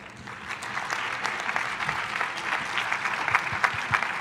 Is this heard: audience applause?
yes